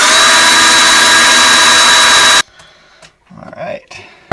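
A case trimmer cutter shaving a .223 brass case down to .300 Blackout length, loud continuous grinding whir that stops abruptly partway, followed by quieter handling noises.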